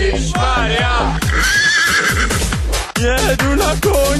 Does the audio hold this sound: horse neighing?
yes